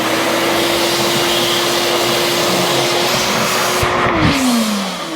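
A power drill with a new bit bores through metal while fitting a B&W hitch to a Ram 2500 truck, giving a loud, steady whine that drops in pitch near the end as the bit slows.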